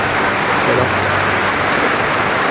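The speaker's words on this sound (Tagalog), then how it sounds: "maingay kasi umuulan" Steady heavy rain pours down as a loud, continuous hiss with no breaks, in a flooded area near a house.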